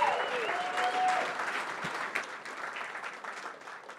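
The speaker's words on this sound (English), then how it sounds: "Round of applause" An audience applauds a startup presenter at a tech pitch night, steady dense clapping filling the room at moderate volume from start to finish, with a faint tonal whistle near the beginning.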